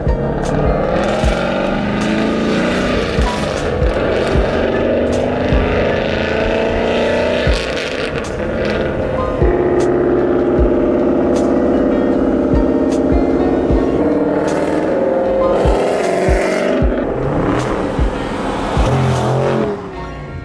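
A car cruising to a car meet on a warm day, its engine a steady, loud drone with road rush and passing traffic, shifting in pitch midway as it accelerates.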